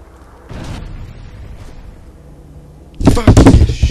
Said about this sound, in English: When there's bombs falling down, you do not want to go outside.